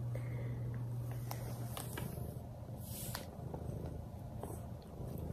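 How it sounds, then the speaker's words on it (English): Close, soft purring from a hairless cat rumbles low and steady throughout, with scattered light clicks and rustles over it. "Harry is sitting here purring."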